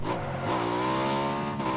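A vehicle engine in PUBG, heard during a tournament match, drones steadily with a rising rev and a tonal whine, loud and continuous throughout, with no talking over it.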